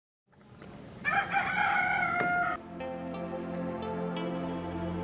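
A rooster crows loudly and close on a poultry farm, a single long call that fades into the soft, steady clucking of hens nearby.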